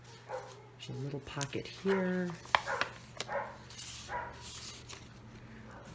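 A dog barks several times in quick yips and woofs in a home craft room, fairly close, over a steady hum, while someone talks.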